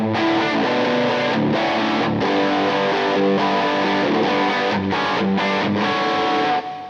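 Gibson Les Paul Bonamassa Skinnerburst electric guitar plays thick, distorted chord lines through an amp, moving from major to minor shapes with modal tones in a loud, sustained run with brief gaps between chords.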